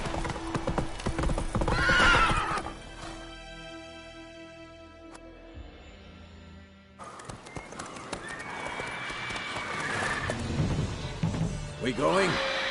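Hooves clip-clop as a horse gallops in The Witcher 3 video game, with neighs and whinnies over a busy game soundscape and voices speaking.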